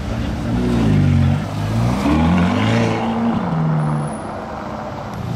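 A Peugeot 406 car engine turns over and starts, settling into a loud, rough idle with low rumbling harmonics, close by, no talking.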